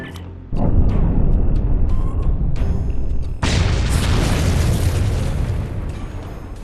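A loud explosion in Star Trek Online bursts in at once and keeps roaring and rumbling for several seconds. A second heavy blast lands partway through, and the din then slowly fades away.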